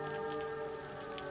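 Rain falling in a survival roleplay game, a steady dense patter on surfaces with no voices, continuous and moderately loud for a brief stretch.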